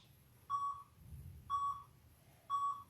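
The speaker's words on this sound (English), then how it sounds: "So we'll go just after those 3 beeps." Three evenly spaced electronic timer app beeps during a workout, one each second, clear and moderately loud over faint low background noise.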